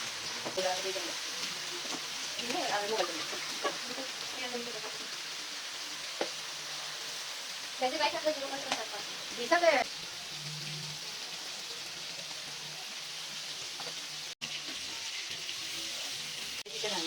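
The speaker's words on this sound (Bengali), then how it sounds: "এখন ভালো করে মিক্স আপ করে তেলে ভাজতে হবে" Hilsa fish pieces coated with turmeric, chilli and salt frying in oil, a steady, fairly soft sizzle running throughout while a voice speaks intermittently over it.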